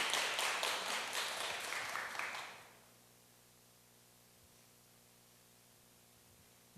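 Applause from an audience at a civic culture camp talk welcoming a speaker, moderate clapping for about two and a half seconds that fades out into a quiet room with a low hum.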